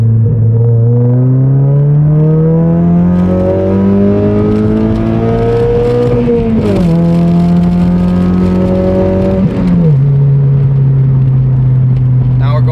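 A 2022 Toyota Corolla Hatch with a full exhaust and AMT stage 2++ tune makes a loud second-gear pull from about 30 mph, its exhaust note climbing steadily in pitch with two brief dips at the gear changes.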